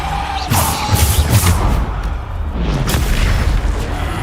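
The Depulso force spell is cast in the Hogwarts Legacy video game, giving loud, heavy booming thumps and rumbling blasts that overlap densely throughout.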